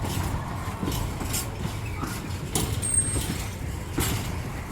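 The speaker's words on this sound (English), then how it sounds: "The wheels are rigid on the axle, so when they go around the turns, one of the wheels has to slide a little bit, and that's where you get all creaking and groaning and screeching" Wagon wheels on a freight train hauled by GBRf class 66 locomotive 66724 'Drax Power Station' creak and groan as they slide around a curve. A steady mechanical grinding with irregular creaks carries through the whole passage, moderately loud.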